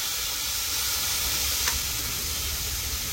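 Kabuli chickpeas hit hot oil with five-spice tempering in a pan, making a steady, loud hiss of sizzling that holds evenly throughout with no voices.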